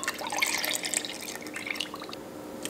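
Soy sauce pours into a Korean marinade for chili peppers, giving a soft, steady liquid trickle with light drips, close and quiet, with no talking.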